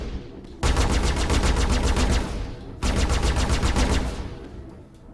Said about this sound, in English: So let's fire our main weapons, our initial weapons.